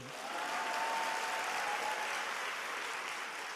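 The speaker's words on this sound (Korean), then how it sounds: "박수 한번 더 치셔야 돼요." Steady, continuous audience applause at a network-marketing business event, a uniform wash of clapping that swells in and holds for a few seconds.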